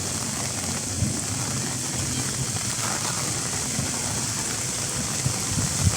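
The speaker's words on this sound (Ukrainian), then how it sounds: "ще й дощ посилюється" Steady heavy rain hisses on surfaces throughout, a dense wash of drops with a low rumble beneath, growing a touch louder near the end.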